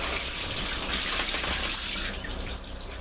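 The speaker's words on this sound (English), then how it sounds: "And that pump that's draining that away, the flow rate is exactly the same as the pump that's providing the water." Water pours steadily in a DIY motorhome shower, a loud broadband gushing rush that continues throughout while a pump drains it away, with no speech.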